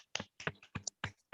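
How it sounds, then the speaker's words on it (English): Applause heard over an online video call comes as about five separate, evenly spaced claps, compressed and fairly faint, with no voices. "give them a big round of applause"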